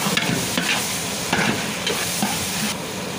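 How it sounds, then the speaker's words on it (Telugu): Pumpkin, cucumber and carrot pieces are stirred in hot oil, giving loud, close scraping strokes in an irregular rhythm over a steady frying sizzle. "గుమ్మడి, కీరా, క్యారెట్ ముక్కలన్నీ వేసి అయితే ఆయిల్లో మంచిగా కలుపుకోవాలి."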